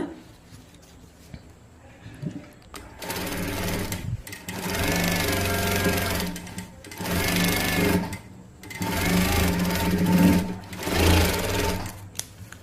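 Electric sewing machine stitching fabric in bursts, a close, fast mechanical whir that starts and stops several times with short pauses between runs, alone without talk.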